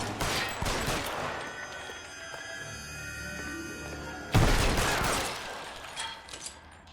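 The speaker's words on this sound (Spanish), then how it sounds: "Le pegué como 6 tiros, boludo." Gunfire from the L.A. Noire video game comes in two loud bursts of rapid shots, one at the start and a heavier one midway, with softer rumbling in between.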